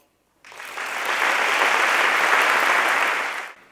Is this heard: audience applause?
yes